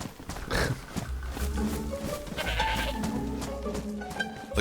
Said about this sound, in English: And there's a goat